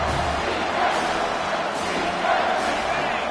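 A college football stadium crowd at an Ole Miss versus Michigan State game roars steadily behind the defense, a dense, distant wash of cheering that swells slightly in places.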